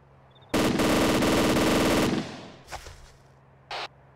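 Machine gun in ArmA 2 combat fires one long sustained burst for about a second and a half, followed by a few fainter distant shots and a short final crack, with no talk.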